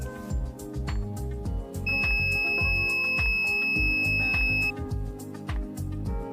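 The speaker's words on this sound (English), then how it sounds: "When you press the button, the sound signal should turn on immediately." A homemade alarm built from an old computer mouse gives off a steady, shrill electronic tone for about three seconds, standing out over a busy, cluttered background of other sounds.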